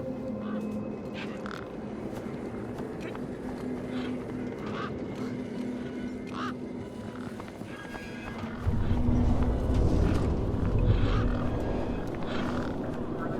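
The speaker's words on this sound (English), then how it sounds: "Those birds weren't going to let me anywhere near the back of the truck." Birds squawking and honking near the back of a truck in the video game Beyond a Steel Sky, repeated harsh calls over a steady ambient drone, with a louder rumbling swell in the latter part.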